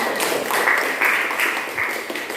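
A classroom of students claps for three student groups, a short burst of mid-level applause that holds for a couple of seconds with uneven swells.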